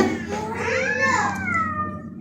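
A cat lets out a single long, drawn-out meow that rises and falls, close by, over a low background hum in a room with air conditioning running.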